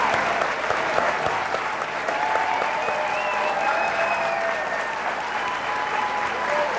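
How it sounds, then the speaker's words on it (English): Sustained applause from a debate audience greeting two gubernatorial candidates, a dense steady wash of many hands clapping for several seconds without letting up. "Let's give both of our candidates a warm round of applause."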